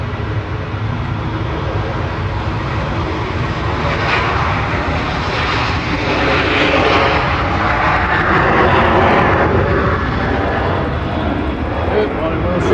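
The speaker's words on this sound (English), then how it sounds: "Ryanair departing in parallel" A Ryanair jet departs from Manchester Airport in parallel, its loud, steady engine roar filling the whole stretch with broadband rumble that swells slightly toward the end.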